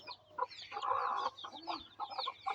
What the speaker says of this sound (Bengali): দেখেন বন্ধুগণ মুরগি